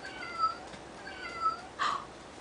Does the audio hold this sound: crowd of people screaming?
no